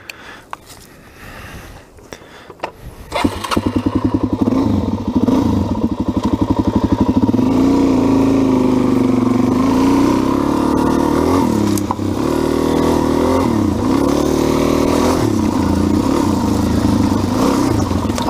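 A Suzuki DRZ 400 dirt bike is ridden off-road after some quiet shuffling, its engine then running loud and close with repeated revs and gear changes for the rest of the run.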